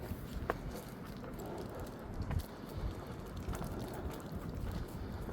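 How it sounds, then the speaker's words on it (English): Wind blowing in Central Park during a dog walk, a low continuous rumble buffeting the microphone, with faint footsteps and scattered outdoor sounds. "Quite windy today"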